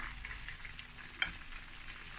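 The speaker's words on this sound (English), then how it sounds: "So I'm frying the second one." Soft, steady sizzling of chicken frying in hot oil, a low continuous crackle with one brief sharper tick midway; no voices.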